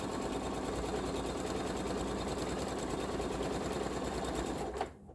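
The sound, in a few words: sewing machine sewing quilt star pieces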